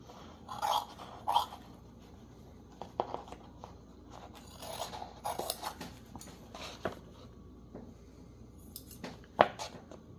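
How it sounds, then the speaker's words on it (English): Scissors snipping around the edge of a soft book cover, a series of short crisp cuts and rustles at close range, irregular with pauses between strokes, in a quiet room. "now I'm simply going to cut out the perimeter"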